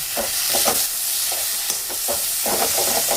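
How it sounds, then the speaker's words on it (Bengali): A spoon scrapes and stirs egg puff filling seasoned with Maggi masala in a pan, making a repeated, rhythmic scraping with a soft sizzle underneath. "একটু দেবো ম্যাগি মশলা, একটু সব মিশিয়ে রেখে দেবো"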